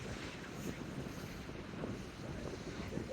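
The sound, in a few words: wind blowing through beach dunes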